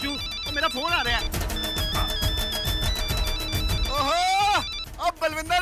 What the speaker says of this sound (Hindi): तो मेरा फोन आ रहा है